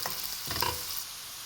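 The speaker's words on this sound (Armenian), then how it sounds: "Ավելացնում եմ նաև գազարը ու շարունակում եմ տապակել սոխի հետ" Carrot frying with onion in a pan, a soft sizzle with brief stirring scrapes midway, quiet and close.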